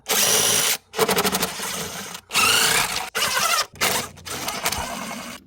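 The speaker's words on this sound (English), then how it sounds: "And now we can remove the bolts holding the upper intake plenum on" A power tool spins out 8mm bolts on the upper intake plenum of a Dodge Grand Caravan or Chrysler Town & Country, in several short whirring bursts split by brief pauses, close and loud.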